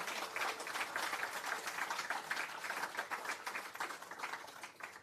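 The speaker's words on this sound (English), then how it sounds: "Another big round of applause for Monsieur Samy" Audience applause after a performance at the official opening of a regional workshop on early childhood care and education, with continuous crowd clapping, fairly distant and even throughout.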